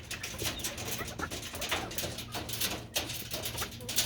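Pet birds, including chukar partridges, call over a steady wash of background noise, with soft cooing notes repeating faintly and continuously.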